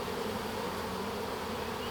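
Honey bees at a new hive, a dense, continuous buzzing drone, close and steady throughout with no other sounds.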